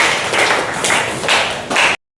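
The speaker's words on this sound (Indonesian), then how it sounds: "tepuk tangan untuk kita semua" A small classroom group claps together for about two seconds, a dense patter of hand claps that swells in uneven bursts and then stops abruptly.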